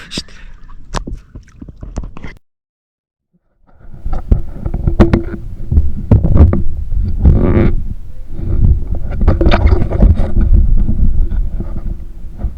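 A fishing boat's engine sputters a few times, drops out briefly, then catches and runs with a loud, rough, uneven rumble close by, buffeted by wind noise.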